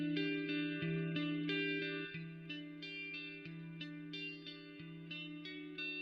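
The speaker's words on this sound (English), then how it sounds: "Now reverb will sound something like this." Electric guitar chords strummed through a reverb pedal ring out in a slow, even sequence, each strike followed by a long, smooth sustained tail that blends into the next, with no voices over the playing.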